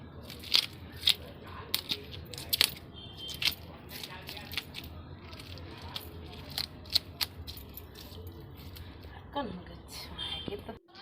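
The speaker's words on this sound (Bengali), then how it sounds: "একটা কয়েন দিয়ে মাছের আঁচটা আস্তে আস্তে বাছা শুরু করেছে" A coin scrapes the scales off a large pond-caught catla fish, making repeated sharp scratchy clicks in an irregular rhythm, close and fairly quiet, with faint background murmur.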